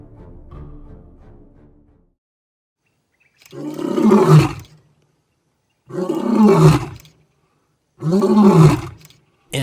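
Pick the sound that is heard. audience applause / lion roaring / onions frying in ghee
lion roaring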